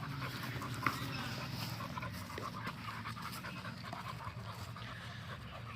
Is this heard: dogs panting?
yes